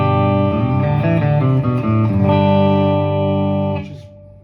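An electric guitar runs through a Fender Mustang GTX100 amp on its twin reverb clean preset, playing a quick sequence of clean notes that settles into a sustained chord, which rings and fades.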